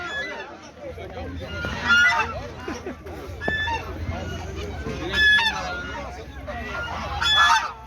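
Geese honk repeatedly at an outdoor poultry market, loud, close bursts scattered among clucking fowl and background crowd chatter.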